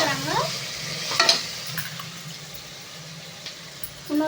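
Frying for a home-style Sunday chicken curry in a pan, with a soft continuous sizzle and a few louder stirring scrapes and clatters partway through and at the end, no talking.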